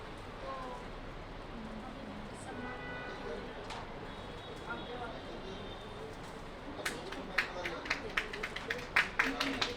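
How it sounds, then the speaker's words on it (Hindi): Applause from an audience at a Jain community honour ceremony, a scattered burst of hand claps building near the end over a hum of background voices and room noise. "ताली बजाते रहो सारे दिन।"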